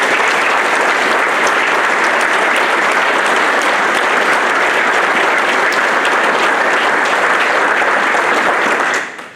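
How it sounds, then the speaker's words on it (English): Sustained, loud audience applause fills a college athletics Hall of Fame ceremony, a dense, even wash of many hands clapping for about nine seconds before cutting off abruptly at the end. "Let's give a round of applause to all of the people here."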